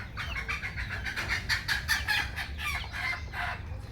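Desi roosters and hens on a chicken farm give repeated clucking calls in a busy rhythm over a low background hum, moderately near. No voices are heard.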